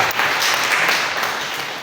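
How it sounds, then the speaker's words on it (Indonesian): Church congregation breaks into loud, dense applause that fills the room, steady for almost two seconds before easing slightly, with no speech over it. "Kita berikan tepuk tangan buat kita."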